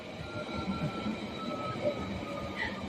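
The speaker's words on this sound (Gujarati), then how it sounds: "અહીંયાની મેટ્રો ટ્રેન છે, જોઈ લો." Steady low rumble of a London metro train running toward Central London, a continuous mechanical drone with faint high whines, heard from inside at moderate level.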